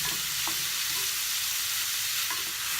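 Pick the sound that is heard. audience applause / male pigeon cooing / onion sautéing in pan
onion sautéing in pan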